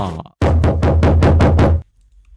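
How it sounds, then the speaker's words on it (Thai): A quick run of about seven knocks on a door in steady rhythm, loud and close, at night, followed by quiet. "เสียงเคาะประตูมาด้วย"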